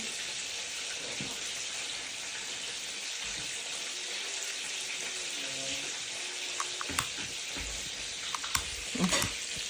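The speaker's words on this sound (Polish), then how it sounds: "Jeszcze te kotlety smażam" Cutlets fry in oil in a pan over a gas flame, giving a steady broadband sizzle that fills the whole stretch, with a few clinks and stirring knocks near the end.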